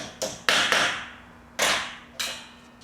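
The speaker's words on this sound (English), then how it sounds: "inserting the Grub Stud into place, starting it with a hammer" Five sharp hammer taps land in uneven succession, starting a grub stud into a truck deck, each a crisp metallic strike with a short ringing decay, close and clear.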